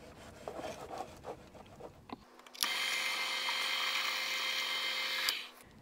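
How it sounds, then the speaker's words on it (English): Some scraping and rubbing, then a drill motor whirs up into a steady, high whine for a few seconds drilling a 1mm pilot hole on a fender bib, before stopping. "we're going to go and drill a pilot hole at 1mm."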